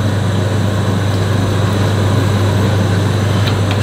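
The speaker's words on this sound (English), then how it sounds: "The noise you can hear now is just the extractor fan running." Kitchen extractor fan running steadily and loudly, a constant broadband whoosh with a strong low hum, unbroken throughout.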